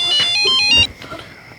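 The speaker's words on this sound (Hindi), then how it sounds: "सुरेखा, कंचन का फोन।" A bright electronic phone ringtone plays a short melodic pattern, loud and close, then cuts off abruptly, leaving quiet background sound.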